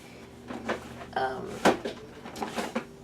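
A craft-room drawer is pulled open and pushed shut during paper crafting, giving a few close wooden knocks and slides in quick succession.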